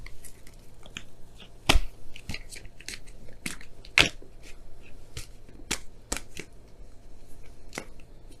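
Oracle cards being shuffled by hand, a steady run of crisp, close card snaps and riffles with a few louder slaps, without any talking.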